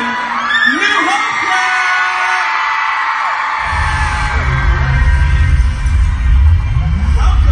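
An audience cheers and whoops as the band enters, loud yells and shouts rising into a fuller crowd roar partway through, with voices talking over it.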